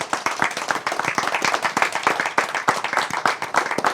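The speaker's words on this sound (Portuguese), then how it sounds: "tremendo aplauso para você" A studio audience on a Papiamento-language variety show applauds a participant. Brisk, fairly close handclaps come from a modest group and run steadily for four seconds without pause.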